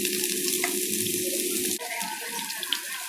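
Onion frying in a pan with oil for a fish curry, with seeds already in the pan: a steady hissing sizzle that changes character midway, near and constant, with no talking.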